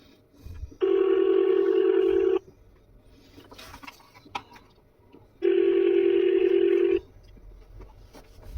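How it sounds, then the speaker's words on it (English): A phone call to the Louisiana State Police Troop G post in Bossier City rings out: two long, loud ringback tones separated by a quiet gap with faint clicks, and no talking. "So I'm gonna go ahead and try to call again, so we can continue to talk."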